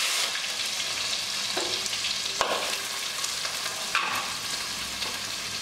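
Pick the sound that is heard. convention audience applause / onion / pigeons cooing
onion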